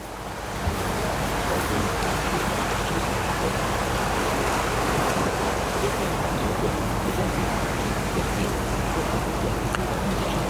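Steady ocean surf washes against the shore behind a seaside memorial service for an A-20G aircraft crew lost at sea, a continuous broad roar mixed with wind buffeting the microphone, with no one speaking.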